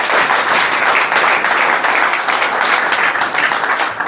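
A church congregation claps for the Lord in a steady, dense round of applause that holds at full strength for a few seconds, with faint voices mixed into the crowd noise.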